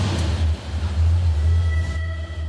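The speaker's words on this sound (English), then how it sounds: "Driving around with the sound of that sumptuous 8-cylinder is very much a labor of love" An Alfa Romeo Montreal V8 engine runs with a deep, steady low rumble and an even throb, heard close and continuous with some faint higher whine overhead.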